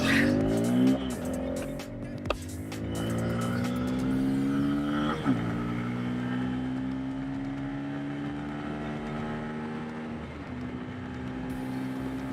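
A 2024 Bajaj Pulsar N250 motorcycle engine rumbles steadily with a thumpy note and revs up as it pulls away, with rising pitch sweeps and a few sharp clicks, loud and close.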